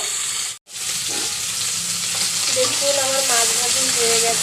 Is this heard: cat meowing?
no